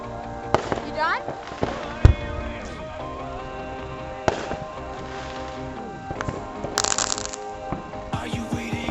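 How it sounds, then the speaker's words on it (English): Firecrackers and fireworks go off in a series of sharp pops and crackles, with a few loud bangs standing out over background music and occasional voices nearby. "Thanks for checking out our Firecrackers at the same time."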